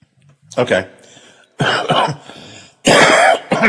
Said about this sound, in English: I wish this cough would stop.